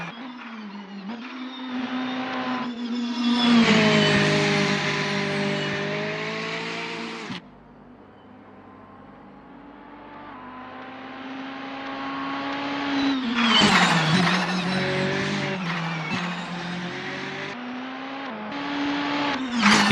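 A VW Scirocco Silhouette Vortex GC10 race car in Assetto Corsa at Bilster Berg screams through the gears, with long rising revs, a sudden lift and quiet stretch, then hard acceleration climbing to a high-pitched wail.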